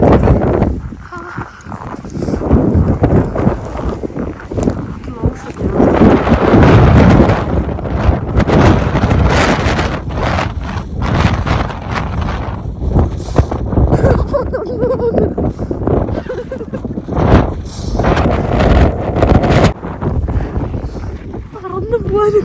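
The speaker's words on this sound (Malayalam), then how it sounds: "നല്ല കാറ്റ്." Strong gusting wind during a snowstorm in Canada near a bus stop, heavy roaring buffets hitting the microphone loudly and unevenly, rising and falling, with voices talking intermittently underneath.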